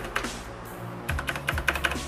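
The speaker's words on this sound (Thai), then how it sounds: "คีย์บอร์ดผมก็ใช้เป็นเซียมซอมเออ น่าจะเป็นบลูสวิตนะครับ" Fingers type on a mechanical keyboard with blue switches at a computer desk, giving close, crisp clicky keystrokes in a few quick bursts with a low background hum underneath.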